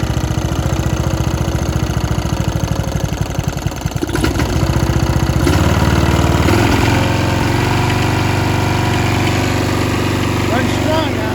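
A Briggs & Stratton engine on a Snapper RER riding mower idles loudly and close with a steady, rapid low chugging, its pitch shifting partway through, while someone talks over it.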